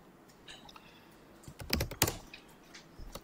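Computer keyboard keystrokes: a few light taps, then a quick burst of sharper, louder clicks in the middle trailing into scattered softer presses, close and quiet, with no voices.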